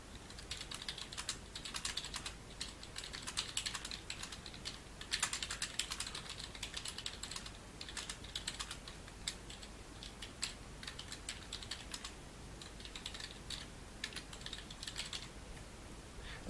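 Steady typing of text on a computer keyboard, rapid irregular key clicks running throughout, close and fairly quiet, with no voices.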